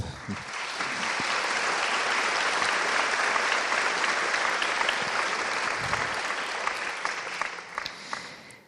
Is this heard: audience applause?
yes